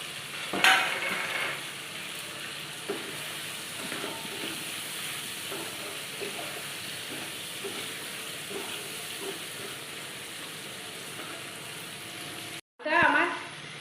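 Fried crabs cooking in a pan with bottle gourd give a moderate, steady sizzle with occasional stirring scrapes, a sharp clatter near the start and a brief cutout near the end.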